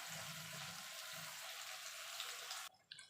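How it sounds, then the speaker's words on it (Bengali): Water poured into a washed mixer grinder jar, a steady hissing splash that runs for most of the moment and then cuts off abruptly, leaving brief faint clinks. "মিক্সির জারটা ধুয়ে জল দিয়ে দেবো।"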